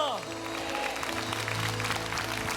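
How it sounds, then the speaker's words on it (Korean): Church congregation applauding during an Easter resurrection service, a steady wash of clapping under sustained musical tones, with a voice and the music carrying on over the applause. "우리 이 기대만큼 주님께 더 큰 박수 올려드립니다."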